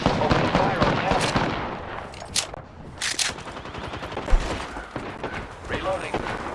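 Rapid bursts of gunfire from an Apex Legends firefight crackle nonstop, with sharp louder shots and booms punching through, while a voice talks over the chaos.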